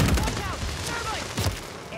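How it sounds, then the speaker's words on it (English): A few scattered gunshots in the Call of Duty video game, fairly quiet and mixed under a person talking. "why is my teammate shooting at me?"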